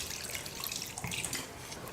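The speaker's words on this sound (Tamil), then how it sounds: "இப்போ தண்ணி கொஞ்சமாக சேர்த்து மட்டனை வேக வச்சுக்கலாம்." Water pours steadily into a pressure cooker holding mutton for biryani, a continuous splashing rush that sounds close and fills the whole moment without any voices.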